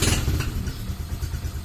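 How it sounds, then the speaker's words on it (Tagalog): A freshly overhauled Honda CB motorcycle engine idles cold, giving a low, steady, slightly uneven chugging pulse heard close, with no talking. "padidinig ko ngayon sa inyo yung tunog ng ating inoverhaul na makina"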